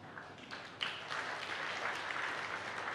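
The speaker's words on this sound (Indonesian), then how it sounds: "Dari tepuk tanganmu nggak niat memang." A church congregation applauds during a sermon with a faint, thin, steady patter of clapping that swells slightly partway through and continues evenly, heard from a distance with no speech over it.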